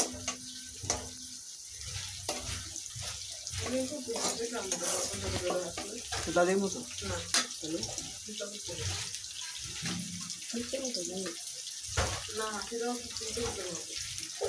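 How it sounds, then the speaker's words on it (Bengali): Onions fry in a pan for a Chinese-style mixed vegetable dish, giving a steady close sizzle and crackle throughout, with a person talking over it much of the time. "এটা হালকা একটু ভাজা ভাজা করে নিয়ে আমি এর মধ্যে একে একে সব ধরনের সবজিগুলো দিয়ে নিব"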